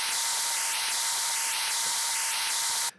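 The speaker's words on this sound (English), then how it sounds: "let's have some white noise for D" Steady, loud hiss of white noise from a cinematic noise plugin, with a faint periodic warble, ending abruptly.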